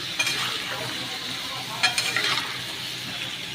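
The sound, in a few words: pointed gourd frying with salt and turmeric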